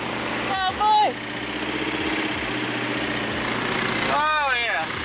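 LS-swapped New Edge Ford Mustang engine idling steadily and close, a low continuous rumble with a couple of short rises in revs, while people talk briefly over it.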